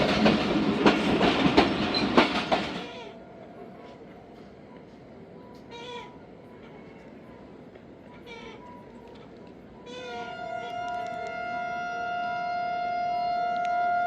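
The 47Up Rehman Baba passenger train runs at night near Mirpur Mathelo. A loud rattling rush fills the first few seconds, then fades to a quiet background with scattered chirps and a steady tonal hum.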